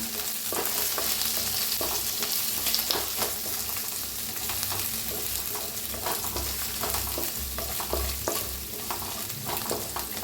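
Crushed green chilli and garlic frying in a pan for stuffed chilli, a steady crackling sizzle with repeated stirring scrapes throughout, close and continuous with no talking.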